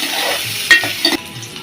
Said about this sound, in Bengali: পেঁয়াজ কুচি দিয়ে দিলেন একটু নাড়িয়ে নিলাম